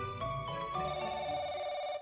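A telephone rings in a Japanese horror investigation video game, a bright sustained electronic ring tone held for about two seconds, clear and close with no talking.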